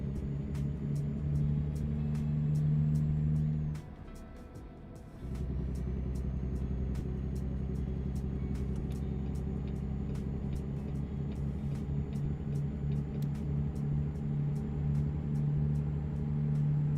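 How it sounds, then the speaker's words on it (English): A truck in American Truck Simulator rumbles with a low, steady engine drone and a brief drop in the middle, then a rapid, throbbing engine-brake chatter continues at a constant level. "Oh, it's a nice Jake brake."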